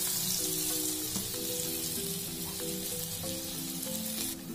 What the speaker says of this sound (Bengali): তেলটা গরম হয়ে গেলে এর মধ্যে দিয়ে দিচ্ছি সামান্য একটু রসুন বাটা।